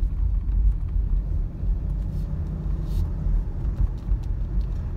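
Road traffic on A. Bonifacio Avenue in Manila, heard from inside a moving car as a low, steady rumble of engines and tires with mild surges and faint higher noises, with no talking.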